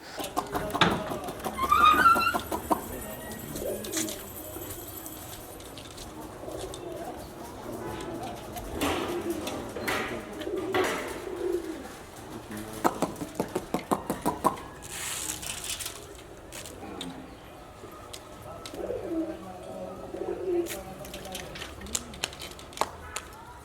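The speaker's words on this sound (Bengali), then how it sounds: "আমরা দাঁড়িয়েছি একটি কবুতরের ফার্মের সামনে" Pigeons coo at a rooftop pigeon farm, soft repeated calls scattered among light taps, rustles and someone talking nearby, the birds fairly close but never loud.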